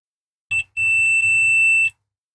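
Continuity beep from a multimeter testing the wires of a homemade USB extension cable with a USB-B socket: a brief tone, a short gap, then a steady sustained beep lasting over a second, clear and close.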